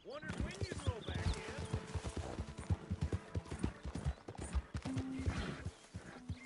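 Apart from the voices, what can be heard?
horse walking, from a video game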